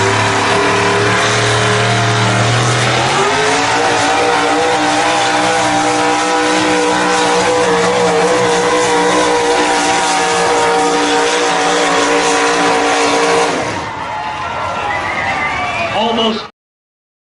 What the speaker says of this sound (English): the first puller is Turlock, California, Sam Pitt. and it's going to be a Dodge